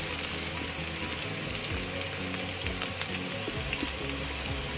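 A large cauldron of potatoes frying in hot oil makes a dense, continuous sizzle and crackle, loud and close with no voices over it.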